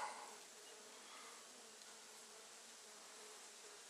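Honeybees in an open nuc hive holding a virgin queen fill the air with a steady, close buzzing hum that carries on evenly without pause.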